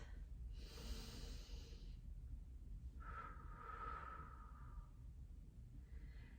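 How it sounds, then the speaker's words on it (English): Slow, deep breathing during a relaxation exercise: one long inhale, a pause, then a longer audible exhale, close and soft, with no talk. "taking some more intentional breaths"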